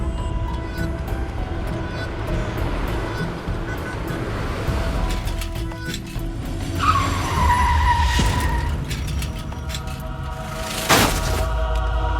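Tyres skid loudly across pavement for several seconds as a car slides and crashes, with a sharp impact burst near the end over steady road noise.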